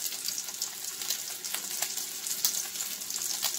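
Breadcrumbed cod fillet sizzling in a hot pan, a steady bright crackle of frying oil with small irregular pops throughout, close and continuous, no talking.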